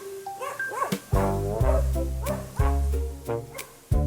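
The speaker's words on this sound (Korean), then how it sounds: "지금 여기 개 안 짖게 훈련시키고 있습니다" A dog in Nicaragua barks repeatedly at close range in a series of loud, sharp barks with short yips and whimpers between them.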